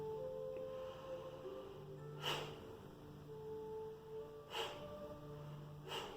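Rapid Breath of Fire breathing exercise, with quick forceful exhales through the nose, three sharp snort-like bursts standing out over a steady background hum.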